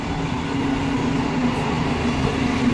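Train pulling into a railway station, a loud continuous low rumble of wheels and carriages with a steady drone, close and unbroken.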